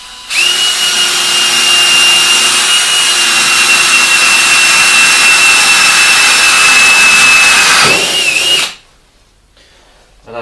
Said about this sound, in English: need to drill some holes.